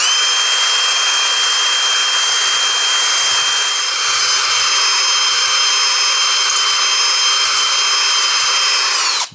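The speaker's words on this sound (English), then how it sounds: "make sure our finger's not in the way, and just bore this out a little bit." Power drill boring out a hole in a Yamaha Blaster 200 engine part, a loud steady high-pitched whine held for about nine seconds close up before stopping abruptly.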